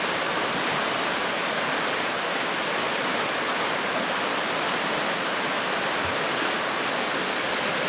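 White water rushing in a river beneath a bridge in New Zealand's North Island, a dense, constant roar of churning water filling every moment, steady and close.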